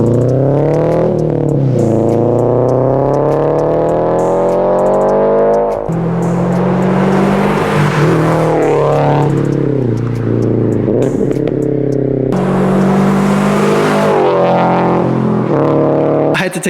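A 2022 Subaru BRZ with a Greddy Evo GT exhaust revs up and settles back again and again, the engine note rising and falling in several loud, close sweeps.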